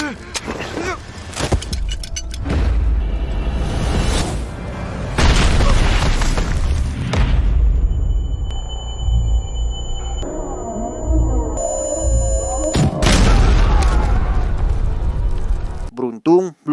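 A grenade blast booms out amid a dense, noisy scene with voices and music, followed by further rumbling bursts and a sudden cutoff near the end.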